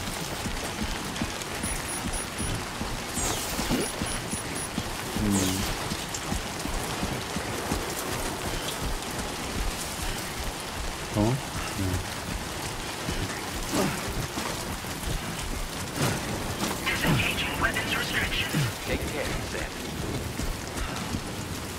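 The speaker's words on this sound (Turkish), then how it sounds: "Bu yağmurda mı gideceğim?" Steady, heavy rain hisses throughout a scene in the video game Death Stranding 2, with occasional rumbles and brief bursts of sound, and a short spoken word.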